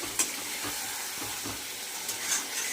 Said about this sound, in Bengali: এইভাবে আমি কষাতেই লাগবো, ভালো করে কষাতে হবে